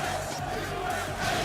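Large crowd at the EVO fighting game tournament chanting in unison for USA champs, a dense, loud roar of voices filling the hall without a break.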